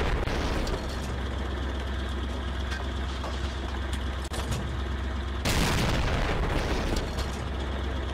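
Cannon fire from a driveable Panther main battle tank in a video game, destroying targets with loud booming blasts over a constant rumbling engine drone, and a sharp burst of noise partway through.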